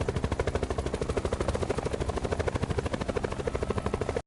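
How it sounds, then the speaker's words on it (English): A helicopter in the Call of Duty Black Ops 4 video game gives a loud, close, rapid rotor chop with a steady rhythmic pulse that continues until the sound cuts off abruptly. "You can absolutely bail out of the helicopter if you need to."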